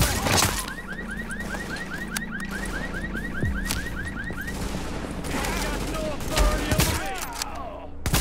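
Rapid bursts of automatic gunfire crackle through a firefight in Tom Clancy's The Division, layered with a repeating alarm-like chirp and game ambience, while voices talk over the shooting.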